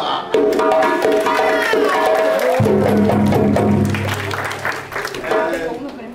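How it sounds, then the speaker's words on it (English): An audience applauds a drummer named Papa at an African dance and drum performance in a library, a steady wash of clapping blended with sustained music and a voice talking over it. "Nice big round of applause for Papa"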